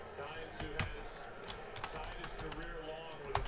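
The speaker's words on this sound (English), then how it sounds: "Come on, keyboard. I don't need you to die now." Rapid clicking keystrokes on a computer keyboard, a steady patter of taps at moderate volume running under faint background sound.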